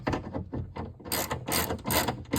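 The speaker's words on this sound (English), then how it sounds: "Just tighten the window bolts down." Quick ratcheting clicks sound close up as window regulator bolts are tightened inside the rear door of a 2001 Pontiac Grand Am, in short rapid bursts.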